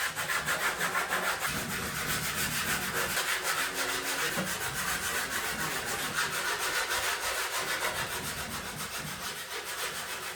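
Steady, continuous scratchy rubbing of coarse-grit sandpaper worked back and forth over wood, close and fairly loud, with no talking.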